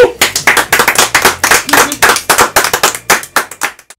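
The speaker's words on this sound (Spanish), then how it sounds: "Aquí un fuerte aplauso, por favor." Loud, close clapping from a small audience at a live band session, with sharp separate claps in quick uneven bursts that thin out toward the end.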